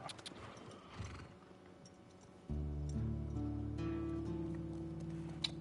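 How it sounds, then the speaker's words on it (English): Horses in The Last of Us Part II walk with a rhythmic clip-clop of hooves, with a brief whinny, then a steady music bed rises beneath the hoofbeats. "Starting off, me and Tommy on some horses."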